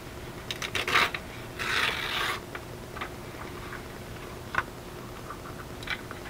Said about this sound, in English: So let's rip it just a little bit more.